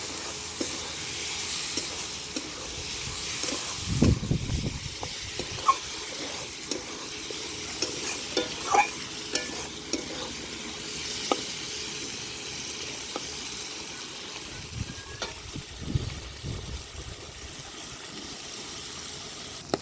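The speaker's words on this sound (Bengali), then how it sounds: "মাছের তেলটাকে ভাজার জন্য সামান্য পরিমাণে হলুদ দিয়েছি, পেঁয়াজ," Fish fat fries in a pan with turmeric, onion and chili under a soft, even sizzle, while a spatula stirs and taps through it in irregular scrapes and clicks, growing busier toward the end.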